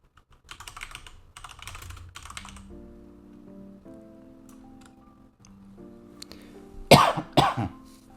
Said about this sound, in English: I still have a little bit of a residual cough